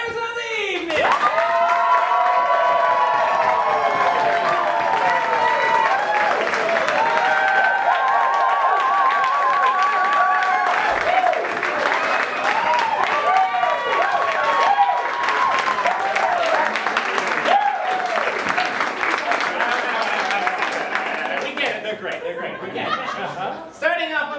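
An audience at an evening bluegrass show bursts into loud, sustained applause and cheering that lasts more than twenty seconds, with chuckles and scattered voices mixed in before it fades.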